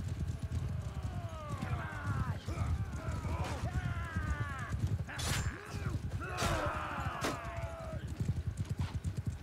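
Horse galloping in the video game Mount and Blade 2 Bannerlord, rapid clip-clop hoofbeats amid battle noise and a whinny, with voices talking over it.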